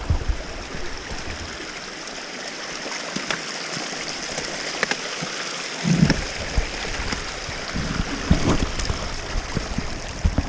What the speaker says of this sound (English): The trail has turned into a creek.